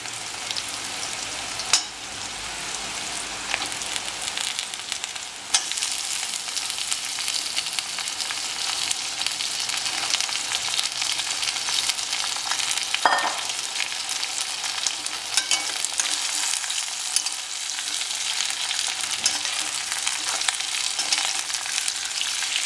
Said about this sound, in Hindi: अब इसके अंदर हम फ्राई जो ही चिकन के पीसेस डाल देंगे